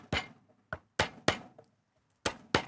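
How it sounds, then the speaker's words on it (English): Fat garlic cloves bruised for a piri-piri sauce: five or six sharp, hard knocks of a blade or press on a board, irregularly spaced and close, with no talk. "We'll start with 3 cloves of garlic, nice fat cloves, and I'll just bruise them."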